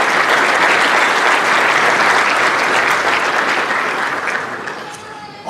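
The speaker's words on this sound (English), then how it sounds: "a round of applause for Louisville Slugger." Loud, dense audience applause at a softball Hall of Fame induction ceremony, a continuous wash of clapping that holds steady and then gradually thins and fades near the end.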